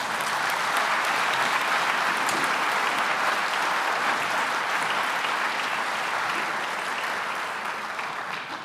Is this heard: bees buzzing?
no